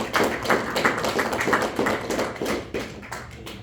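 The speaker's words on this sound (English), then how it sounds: "How about another round of applause for Rick and Jane?" Steady applause from a live jazz audience after a set, many hands clapping at moderate distance in a continuous patter lasting a few seconds.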